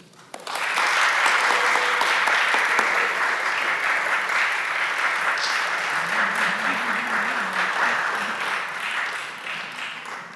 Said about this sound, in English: Please join me in applauding our honorees both online and here in person.